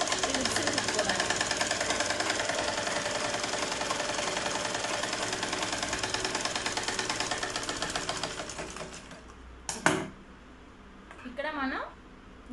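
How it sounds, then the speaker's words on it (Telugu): A sewing machine stitches blouse fabric in a fast, steady mechanical run for about nine seconds, then slows and stops, followed by a couple of brief handling noises. "ఇప్పుడు దీని పక్కన నుంచి మళ్ళీ ఇంకో స్టిచ్ వేసుకోండి."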